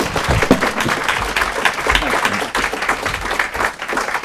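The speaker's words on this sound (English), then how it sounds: "Let's have another round of applause for our fantastic speaker, Larry Schweikart." Audience giving a round of applause to a speaker after a talk on a Reagan book, sustained, dense clapping from a crowd, loud and continuous.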